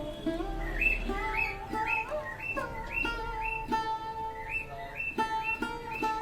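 Birds call in the morning with clear, repeated whistled chirps in a quick rising pattern. They sound fairly close and carry on steadily with no talk.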